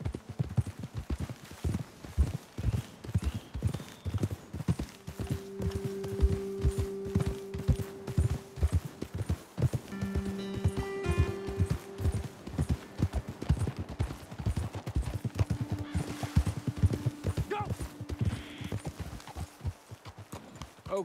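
Horse hooves clip-clop steadily and fairly close in the video game Red Dead Redemption 2, a continuous rhythmic trotting with low background hum and occasional tonal game sounds.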